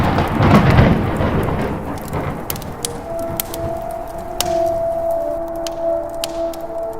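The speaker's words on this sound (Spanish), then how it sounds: "Poderoso y escandaloso trueno casi le saca el alma del cuerpo a la mercenaria." A thunderstorm with heavy rain: a loud rumbling thunder roll at the start fades into steady rain pattering on surfaces, with occasional sharp drop hits and a faint high tone sustained underneath.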